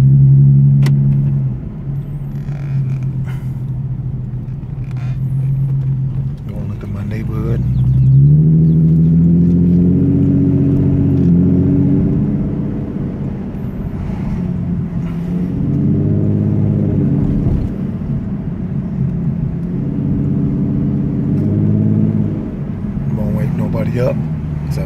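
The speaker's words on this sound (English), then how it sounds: "Of course, it gets louder when you step on it, but not a nice morning rumble to it." A car fitted with a new Tomei exhaust idles early in the morning, a low, steady rumble with a couple of swells as the revs rise and fall, heard close up while someone talks over it.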